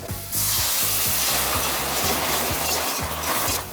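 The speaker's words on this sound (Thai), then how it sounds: "เราจะคั่วหัวกุ้งกับน้ำให้มันเขาออกมาก่อนนะครับอ่ะใส่น้ำลงไปด้วย" Shrimp heads stir-fried with water in a pan give a loud, dense sizzle and hiss close up, steady throughout, with a spatula scraping and knocking in a rough rhythm underneath.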